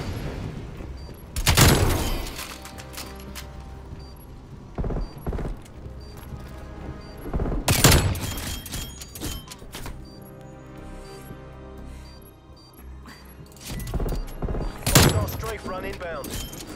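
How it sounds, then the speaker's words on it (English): Artillery strike in the Call of Duty: Black Ops Cold War video game, three loud booming explosions spaced several seconds apart over continuous game ambience and smaller crackles. "Artillery targeting detected."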